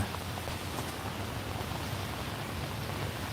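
Rain falls steadily in Vientiane, Laos, on a cool day of about 18 degrees, a dense, even hiss of drops hitting surfaces, close and continuous with no voices.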